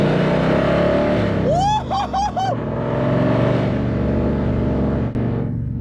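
A loud, steady engine drone runs throughout, with a few quick rising revs near the start that sound raspy and aggressive.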